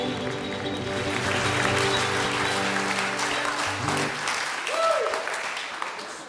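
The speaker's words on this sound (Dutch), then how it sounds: "Applaus voor uw strijenfinalisten Petra, Yvette en Sjoerd" Audience applause in a television show studio, a continuous crowd clapping under lingering music tones that fade out partway, with the clapping carrying on alone afterward.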